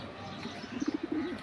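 A full silver (aluminium silver) pigeon gives a soft, close, rhythmic series of low coos lasting about half a second, with no other sound around it.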